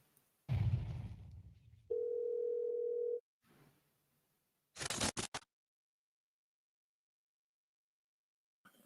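A prison phone call recording connects with a rustle and a short rising sound, then a steady electronic tone of a second or so, then a brief cluster of clicks, with silence between them.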